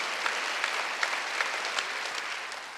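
Congregation members at a church worship service break into applause, a continuous crackle of many hands at moderate volume with a few sharper claps standing out, steady from start to finish.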